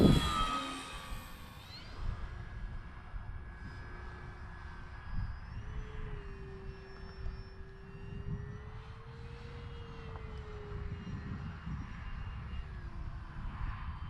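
An E-flite T-28 Trojan 1.2 m radio-controlled model plane drones steadily at a distance, its engine pitch rising and falling slightly as it passes, over faint outdoor background noise.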